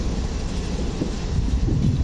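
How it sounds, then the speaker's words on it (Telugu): A DEMU train rolls into Siddipet station's first platform, a steady low rumble and rattle of wheels and carriages holding at an even level throughout, close by and with some wind noise on the microphone. "సో ట్రైన్ ప్రస్తుతానికి సిద్దిపేట స్టేషన్ ఫస్ట్ ప్లాట్ఫామ్ మీదకి వస్తుంది."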